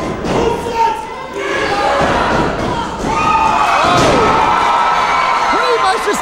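A wrestler power bombs himself onto the mat during a pro wrestling match between two wrestlers, a heavy thud landing amid loud crowd noise and cheering, with commentators talking throughout.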